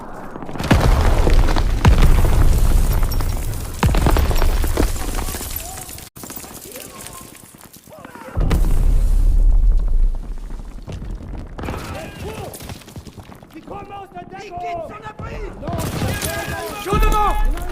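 Explosions and gunfire in Call of Duty WW2 during a beach assault under machine-gun fire, with heavy booms, rattling bursts and grenade blasts, loud and dense, and shouted voices over the battle.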